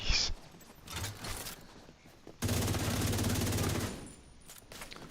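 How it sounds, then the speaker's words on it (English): Automatic rifle fire in the shooter game The Division 2 bursts out in a sustained rapid rattle for about a second and a half, with shorter shots and sharp impacts before it, loud and close, with no talk. "Who is shooting at me?"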